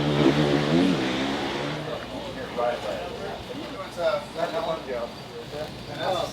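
A 2025 Honda CRF450R motocross bike revs hard on a dirt track, its engine rising and falling loudly and continuously at fairly close range.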